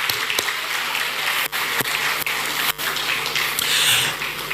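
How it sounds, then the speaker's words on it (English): An awards-ceremony audience gives a sustained round of applause in a large hall, a broad steady wash of clapping with a few brief dropouts, and no voices over it. "Please do a big round of applause,"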